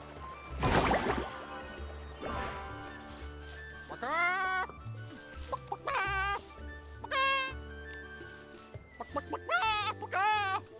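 Clucking from a man in the Infinity Nikki video game, repeated warbling fowl-like calls in short bursts against soft background music, with a voice imitating the sound and some speech.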